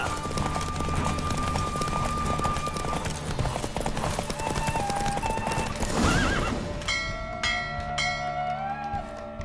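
Hooves clip-clop in a steady fast gallop during a horse race in The Witcher 3, with neighs and whinnies rising over the run, loud and close, backed by game music.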